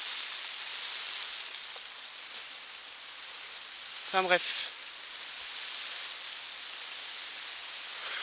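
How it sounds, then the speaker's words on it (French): Steady heavy rain hisses throughout, with a brief voice speaking partway through. "là il pleut énormément. Presque c'est la tempête. Il pleut, il y a du vent."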